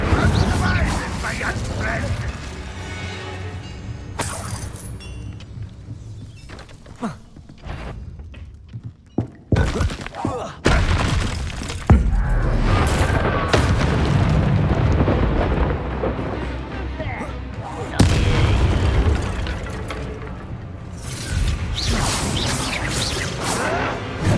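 Spell blasts from the Hogwarts Legacy video game, including an Incendio fire spell, burst amid dense, loud game combat with whooshes, thuds and rumbling impacts, while characters speak over it.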